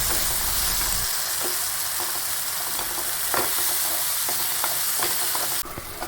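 Sliced banana stirs in hot ghee in a pan, giving a steady, close sizzle broken by scraping strokes of a spoon, with no talking.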